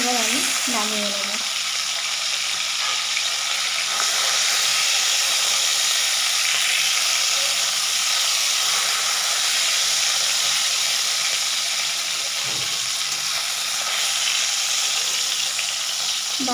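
The remaining bhola fish pieces sizzle loudly and steadily in hot oil, a close and continuous frying hiss with occasional soft stirring sounds.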